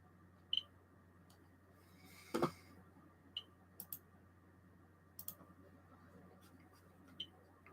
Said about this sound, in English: Well, it's picking up background, but there's always background radiation.